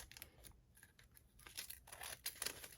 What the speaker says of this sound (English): I'll just take my scissors.